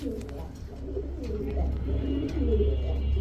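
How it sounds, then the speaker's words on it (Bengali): Pakistani Kaldom pigeons at a pigeon market coo close by in repeated low throaty rolls that run continuously and grow slightly louder toward the end. "পাকিস্তানি কালদম একটা মাদি কবুতর"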